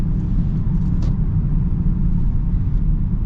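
Steady low engine rumble from a 2026 Genesis GV80 Prestige with the 3.5 engine and 8-speed gearbox, heard from inside the cabin as it accelerates smoothly, a continuous even drone with no talking.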